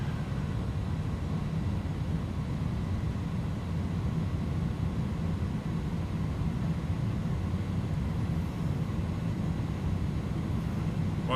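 Airbus A310-300 jet engines at takeoff power, a steady, loud, broadband roar with a deep rumble that holds constant throughout the takeoff roll.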